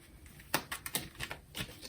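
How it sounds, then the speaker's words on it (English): Quiet, quick riffling of playing cards being shuffled, a few soft crisp bursts close by. "Hopefully the card shuffling isn't too noisy right now"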